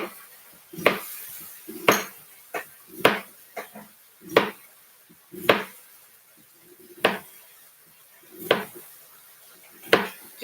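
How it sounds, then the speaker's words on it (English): A knife chopping potatoes in a home kitchen while a steak sears nearby, giving about a dozen sharp, clacking strikes on a board at an uneven pace, close and fairly loud, with small clinks between them. "Just cutting up some more potatoes."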